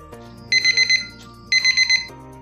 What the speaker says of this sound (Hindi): हमारे अलार्म ने अभी उठने का संकेत दे दिया है